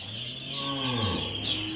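A cow of the old native Vietnamese bò cỏ breed moos at a breeding cattle farm in Vinh Long, Vietnam, one long drawn-out low call that rises and falls, close and clear with no speech.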